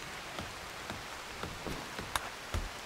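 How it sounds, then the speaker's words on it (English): Rain falls steadily in the colony-building video game Rimworld, a soft continuous hiss with scattered faint drop taps, heard alone at low volume. "So it's raining a lot right now."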